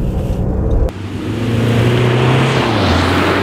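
An Audi A1 hot hatchback's engine drones loud and steady through a corner, a sustained throaty note that rises slightly in pitch, then eases, with no voices.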